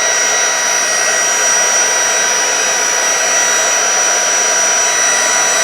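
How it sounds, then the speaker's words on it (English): A craft heat tool on its low setting blows across vellum paper, making a continuous loud, even whooshing hum with no breaks. "I'm going to grab the heat tool, and we are going to put a little, just do it on 1."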